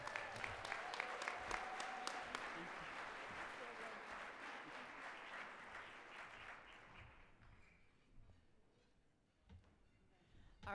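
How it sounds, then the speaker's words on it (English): Applause for a community involvement honoree at a gala: dense, steady clapping from a crowd that gradually thins and fades to scattered claps near the end, heard at a distance. "let's give one more big round of applause for our community involvement honorees"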